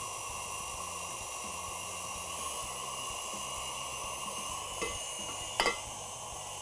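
A mixer whips espresso pecan bar filling of warm butter and eggs with a steady, even whir that holds throughout, and a couple of brief clinks come near the end.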